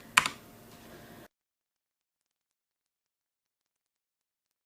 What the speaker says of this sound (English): my keyboard's really loud